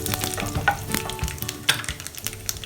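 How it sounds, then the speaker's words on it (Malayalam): Mustard seeds popping in hot oil with chopped dried chilli pieces added, for a broad beans fry: crackling sizzle with rapid irregular pops and spatters, close and fairly loud, with no one speaking. "ഇപ്പോൾ കടുക് പൊട്ടി വന്നിട്ടുണ്ട്"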